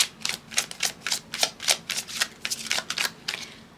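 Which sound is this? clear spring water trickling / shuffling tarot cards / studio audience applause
shuffling tarot cards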